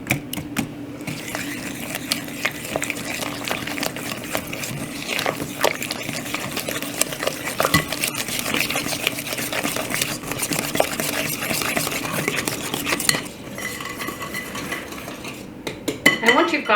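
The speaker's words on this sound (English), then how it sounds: "just start mixing this together" Gingersnap dough ingredients, including eggs, mixed in a bowl: a steady run of rapid clinking and scraping of a utensil against the bowl, continuing for many seconds and then easing briefly near the end.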